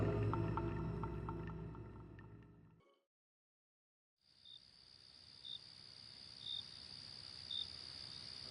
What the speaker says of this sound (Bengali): ঝিঝি পোকার ডাক ছাড়া আর কোনো আওয়াজই